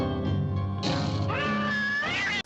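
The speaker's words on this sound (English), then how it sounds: "a cat comes by and eats some of the stuff" A cat in a movie scene gives a long, drawn-out meow that rises and bends into caterwauling cries, loud and close, with no talk over it.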